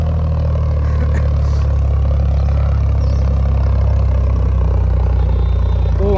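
A Powertrac Euro 55 tractor runs in second gear during an outdoor tractor performance contest, its diesel engine giving a loud, steady low drone with faint clatter and no pauses.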